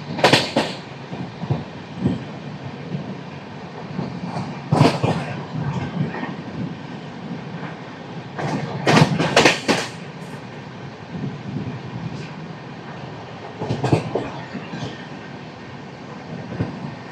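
The Garib Rath Express pulls into Samalkot Junction railway station at night, with loud, steady rumbling and clickety-clack from the wheels and brief squeals and bursts as the carriages roll past close by.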